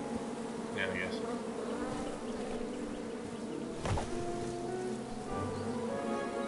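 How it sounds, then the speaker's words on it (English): Bees in King's Quest Chapter 1 buzz steadily and close, a continuous droning hum under soft game ambience, with a faint thump midway. "Can't do anything about these bees."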